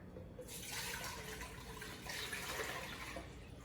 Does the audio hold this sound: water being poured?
yes